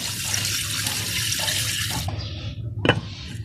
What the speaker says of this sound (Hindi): 5 से 6 लीटर हम इसमें पानी शामिल कर देंगे।